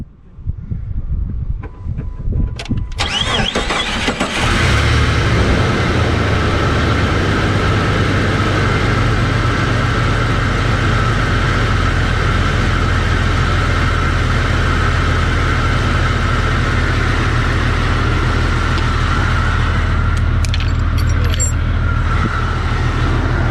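A Jeep Cherokee XJ engine cranks and catches after a coil pack replacement, then settles into a loud, steady idle with a deep rumble that runs on to the end.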